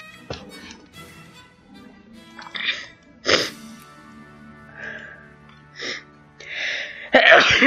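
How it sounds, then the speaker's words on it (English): A man sneezes while playing the Victoria 2 strategy game, with a few softer breathy sounds leading up to one loud, sharp sneeze burst near the end. "Damn it, I have to sneeze again."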